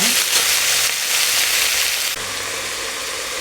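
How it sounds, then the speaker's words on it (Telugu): Chopped broad bean pieces fry in a hot pan for a mixed chikkudikaya curry, a steady close broadband sizzle with a slight drop in intensity partway through, no talking. "చిక్కుడుకాయ ముక్కలు వేసుకుంటున్నాను. వేసుకొని అవి కలుపుకోవాలి. ఇవి కూడా కొంచెం వేగాలన్నమాట."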